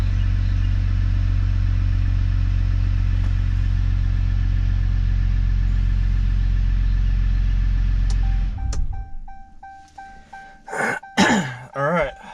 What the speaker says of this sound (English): But the truck did start and run.